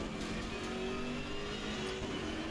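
Loud, sustained engine roar of a BMW M6 GT3 race car in the RaceRoom racing simulator, a steady high-revving drone with no talk over it.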